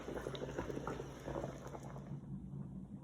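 A pot of wild turkey taco filling for Korean soft tacos simmers with a steady, quiet bubbling that continues without pause, with no voices over it.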